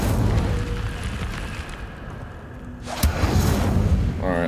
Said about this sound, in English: We'll try to hit it with fire. Incendio.